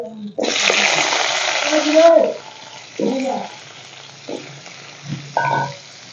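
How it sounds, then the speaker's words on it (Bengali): Potatoes frying in mustard oil in a wok give a loud, hissing sizzle for about two seconds, then fade to a fainter crackle beneath a person talking. "আমি এই আলুগুলো ভেজে নেব তেলের মধ্যে"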